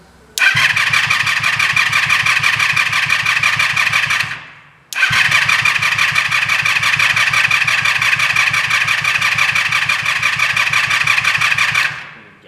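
A Yamaha G1 golf cart's small gas engine fires up and runs with a steady, rapid putter, cuts out briefly, then restarts and keeps running evenly before shutting off, loud and close with no talking.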